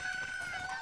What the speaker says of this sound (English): I heard, you shouldn't mess with these chickens